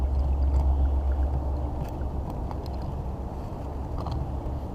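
Low, steady gurgling rush of water draining out of household plumbing pipes after the mains are shut off, a continuous muffled flow with faint clinks on top.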